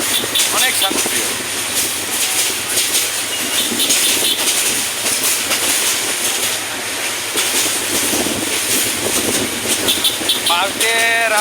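A passenger train running through the Bangladesh countryside with crowds riding on its roof, a continuous rumbling clatter of the wagons throughout, loud and close, with voices talking over it.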